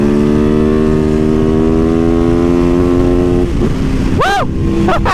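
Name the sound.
cruiser motorcycle engine revving while riding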